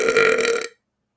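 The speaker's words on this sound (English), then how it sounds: "I'm trying to do some more burp talking." A single loud, close belch that lasts a bit over half a second and then cuts off abruptly into silence.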